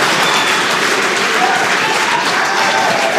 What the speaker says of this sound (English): I have a feeling the crowd is about to go wild.